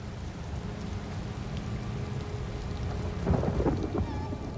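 A thunderstorm in the Elder Scrolls Online game: steady heavy rain patters on surfaces while a low rumble of thunder builds and swells near the end, with no talking.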